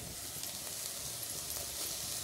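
Onion and paste frying in a hot pan, a steady soft sizzle and hiss running evenly throughout with no voices.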